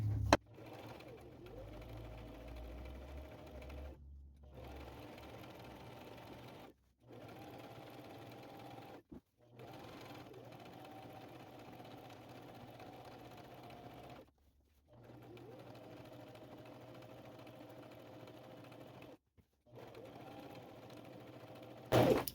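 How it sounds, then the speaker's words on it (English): A sewing machine stitches thin cotton or cotton-blend fabric in a steady close hum, running in several separate bursts split by short silent pauses. "I'm just going to sew right up to that line and stop."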